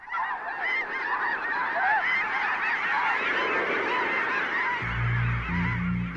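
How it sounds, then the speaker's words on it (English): A dense, continuous chorus of honking snow geese and trumpeter swans, many birds calling at once from a large migrating flock in farm fields of Washington's Skagit Valley, loud and unbroken. "thousands of trumpeter swans and snow geese migrate from the Soviet Union and the Arctic"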